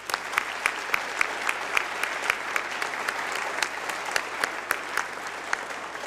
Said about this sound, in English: So I would also like an applause maybe for the people behind the screens